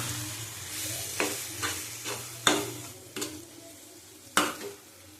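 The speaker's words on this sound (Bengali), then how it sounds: "ভালো করে কষিয়ে নেবো" Egg chicken curry with spices sautéing in a pan, a steady sizzle broken by repeated scrapes and clacks of a spatula stirring against the metal, close and without talk.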